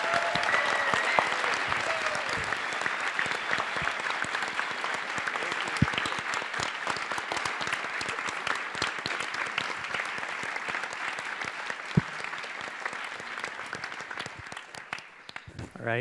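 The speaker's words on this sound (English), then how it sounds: "can we get a round of applause to the organizers?" Conference audience applauding the organizers at the Elm Conf 2017 closing Q&A, a sustained dense wash of clapping filling the room for about fifteen seconds before it tapers off.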